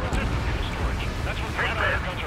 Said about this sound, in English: That's what I call fireworks. Yeah! Another one popped.